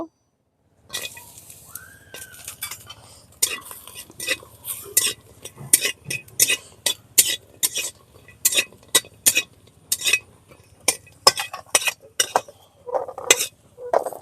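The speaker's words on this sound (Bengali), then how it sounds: "বড়িগুলো ভেজে নেব" Lentil dumplings (bori) frying in oil in a wok, with a steady low sizzle under a long run of sharp, rhythmic clinks and scrapes from a spatula stirring against the metal, close and fairly loud, with no talk.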